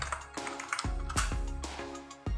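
Button presses on an Avolites lighting console, giving a few sharp, close clicks at irregular intervals with no talking.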